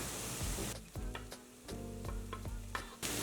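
Roasted moth beans (madike kalu) tipped into a frying pan with tomato and turmeric for North Karnataka usli sizzle under stirring, with a few distinct scraping and clinking strokes of a spoon against the pan, close up and without talk.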